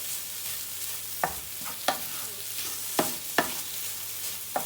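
Onion and peppers sizzle steadily in a frying pan sprayed with Fry Light, while a utensil stirs with several sharp scraping clacks against the pan.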